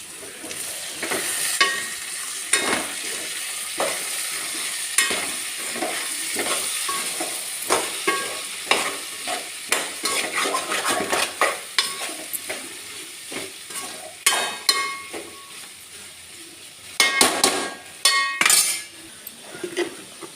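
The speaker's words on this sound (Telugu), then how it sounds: "ఆలుగడ్డలు మంచిగా ఫ్రై అయ్యాయి." Potatoes fry in a pan for a potato fenugreek curry, a steady sizzle broken by frequent scraping stirs and clinks of a utensil against the metal, close and fairly loud, with no talking.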